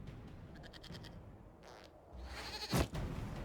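A goat in the video game Dragon Age Inquisition bleats once, loud and close, near the end, after a stretch of quieter in-game ambience and scuffling.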